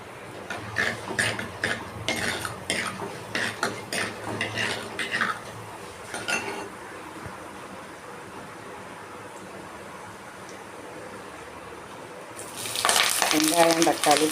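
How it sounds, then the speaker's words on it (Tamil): Chana dal and cloves fry in hot sesame oil for a tempering, with sizzling and stirring bursts at first, then a quieter simmer, and a loud sizzle returning at the end under a brief voice. "கடலைப்பருப்பு ஒரு ஸ்பூன் தாளிக்க"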